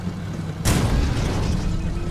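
Weapon fire destroying enemy pods in the SwitchBlade video game, a single sharp burst that breaks into a loud, sustained explosive rumble lasting to the end.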